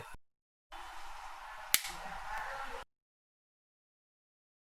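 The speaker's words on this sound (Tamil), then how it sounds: "அந்த லிட்டு வந்து க்ளோஸ் பண்ணும்போது அந்த சவுண்டு வந்து ஒரு யூனிக்காக இருக்குன்னே சொல்லலாம்" A OnePlus Buds wireless earbuds charging case lid snaps shut, a single sharp click standing out over a low background hiss, near and fairly quiet, with no other sounds.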